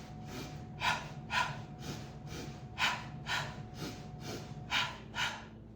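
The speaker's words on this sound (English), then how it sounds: "I'm just breathing through my nose." Steady nasal breathing from a runner, rhythmic inhales and exhales about once a second, close and fairly quiet with no talking.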